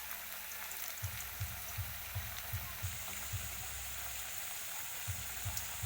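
Tilapia fish frying in oil in a home kitchen, a steady bright sizzle with soft rhythmic low taps from the pan, close and continuous with no talk.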